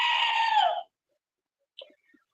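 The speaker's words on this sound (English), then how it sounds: "Here's the screaming goat." A screaming goat sound effect gives one loud, harsh, drawn-out scream lasting nearly a second, then silence broken by a few faint, brief squeaks.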